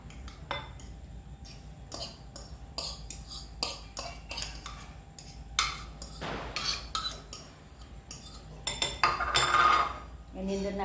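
A metal spoon clinks and scrapes in a bowl of semolina while chopped capsicum, tomatoes and green chillies are added, giving rapid, irregular close clatters and taps that cluster more densely toward the end.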